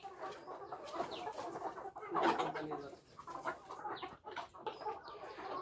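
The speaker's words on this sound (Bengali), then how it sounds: "এগুলো হচ্ছে ডিমের মুরগি।" Layer hens on a poultry farm of about 650 birds cluck and chatter densely and continuously, a busy flock sound filling the whole stretch at moderate loudness.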